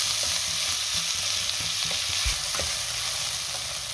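Tomatoes stirred into corn pulao in a pan, hissing and sizzling steadily while a spoon scrapes and clacks in irregular strokes, loud and close, with no talking.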